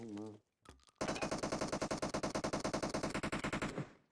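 Rapid automatic gunfire in a shooting video game, a long, fast, evenly spaced burst of close, loud shots lasting nearly three seconds, after a brief bit of voice.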